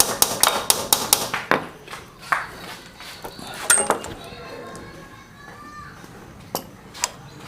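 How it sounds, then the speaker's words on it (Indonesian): Hammer striking around the rubber on a Honda C100-series motorcycle oil pump gear, a quick series of sharp metallic taps, then scattered single knocks, with a voice and faint chatter in the background. "Pokoknya pukul melingkar sehingga karet tersebut benar-benar tidak melekat pada bagian besi tengah itu."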